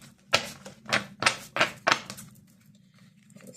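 Tarot cards shuffled by hand during an Earth sign reading, giving four or five crisp, riffling bursts in a quick, uneven rhythm, close and fairly quiet, followed by a soft, still tail.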